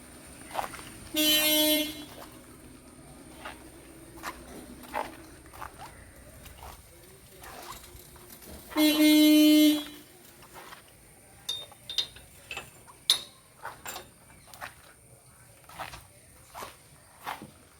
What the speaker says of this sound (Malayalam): സ്കൂൾ വണ്ടി